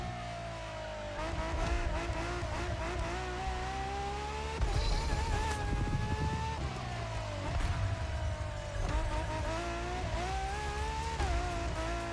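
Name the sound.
Ferrari LaFerrari engine and tires losing traction, The Crew Motorfest video game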